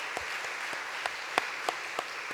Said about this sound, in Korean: 우리 지휘 집사님 우리 박수 한번 쳐드리겠습니다